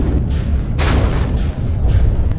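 Grenade launcher rounds from a video game vehicle inspection detonate in a steady run of heavy, rumbling booms with a loud broadband burst near the middle, dense and continuous without pauses.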